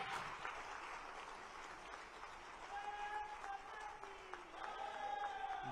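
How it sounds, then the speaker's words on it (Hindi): A hall audience applauds after a Hindi political lecture ends, a broad, steady wash of clapping throughout with faint voices and a tonal hum mixed in. "जोरदार तालियों के साथ एक बार"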